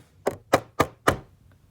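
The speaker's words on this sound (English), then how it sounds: "a knock on the door" Four firm knocks on a wooden door land in a quick, even rhythm, each a sharp close thud, followed by quiet.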